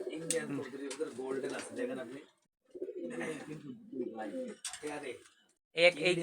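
Pigeons coo in low, rolling bursts with short pauses between them, fairly close and steady, with a brief bright flutter near the end.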